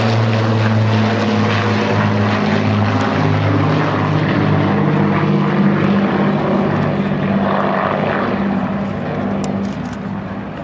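Vintage warbird propeller engines, including a Hawker Hurricane's single engine, drone loudly and continuously at a beach air show, a steady deep throb with harmonic hum that fades slightly toward the end.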